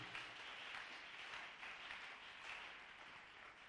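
A church congregation claps in sustained, steady applause during a French- and Lingala-language service, a dense, even patter that is fairly quiet and continues throughout without voices.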